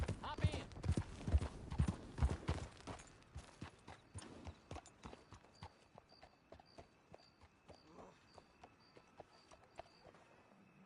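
Horse hooves clip-clop in Red Dead Redemption 2, a clear, steady walking rhythm of hoofbeats that is loud at first and then lighter, with a faint chime-like tone repeating in the background.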